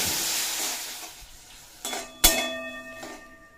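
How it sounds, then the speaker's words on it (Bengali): Shrimp fry in a pan with a soft hiss that fades, followed by a couple of metallic clanks from a utensil stirring against the pan. "চিংড়ি মাছ খুব বেশিক্ষণ সময় লাগে না ভাজতে, অল্প একটু নাড়াচাড়া করেই তুলে নেব"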